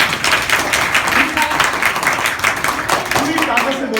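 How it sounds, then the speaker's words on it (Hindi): Schoolchildren clapping together in a classroom at a composite primary school in Azamgarh, a steady dense patter of many small hands over a continuous murmur of young voices. "ताली बजाओ"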